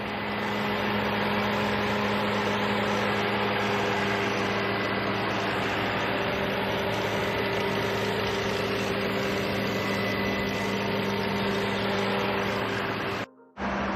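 A 2013 Bentley Continental GTC V8 engine runs steadily at idle, a constant low hum with tonal bands, close and loud throughout, cutting out abruptly near the end.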